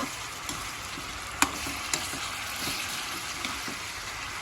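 Pork chop adobo sizzles and fries steadily in a pan while rendering fat, with occasional sharp clinks and scrapes as it is stirred, fairly quiet and heard without talk.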